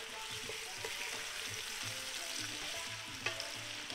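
Half an onion sizzles and crackles quietly in a hot pan for Jamaican escovitch red snapper, giving a steady soft frying hiss with occasional small pops.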